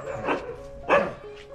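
A Rajapalayam puppy gives two short, close barks about half a second apart, followed by a fainter yip, with a low hum behind them.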